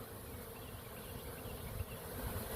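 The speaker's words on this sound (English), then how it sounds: "there's a bunch of bees coming back in this colony. They're fanning." A dense, steady buzz of many honeybees returning to the hive and fanning, humming together near the hive, continuous and fairly loud, with no voices.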